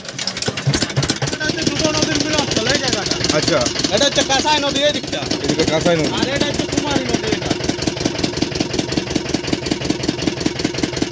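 A motorboat engine chugs steadily and close throughout a boat ride on the Mukutmonipur dam reservoir, a continuous mid-pitched running drone beneath a voice talking over it the whole time.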